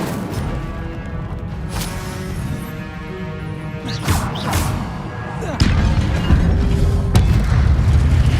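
An Incendio fire spell is cast in Hogwarts Legacy, a sudden low whooshing boom among other spell impacts and crashes, loud and close, with a burst mid-clip and a heavier surge near the end.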